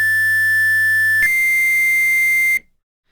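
Hydrasynth synthesizer wavefolding patch playing two sustained buzzy tones, the second a step higher, before cutting off sharply into silence.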